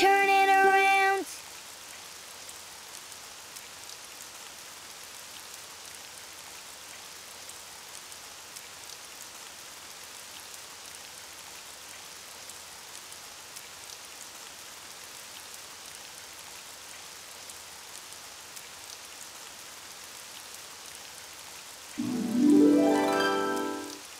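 Steady rain falls outside in an animated children's show, a soft, continuous patter with an even level throughout, framed by brief voices at the very start and end.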